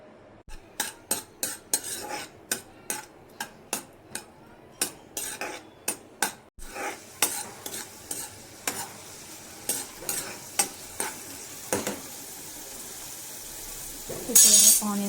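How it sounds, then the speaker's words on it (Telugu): Chopped garlic fries in oil in a pan under a soft sizzle while a utensil stirs and clinks against the metal in repeated sharp taps, close and busy for about twelve seconds. "అందులో కొంచెం ఆయిల్ వేసేసి అండ్ నెక్స్ట్ మనం తరిగి పెట్టుకున్న ఎల్లిపాయలు వేసుకొని కొంచెంసేపు వీటిని వేగనివ్వాలి."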